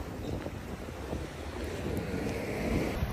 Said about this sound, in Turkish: Uy, esiyor.